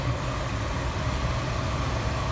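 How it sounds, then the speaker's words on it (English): A 2010 Peugeot 308 VTi S 1.6 sits idling with its air conditioning running, a steady low engine hum and fan rush that hold evenly throughout without change. "I'll let the aircon try and get nice and cold"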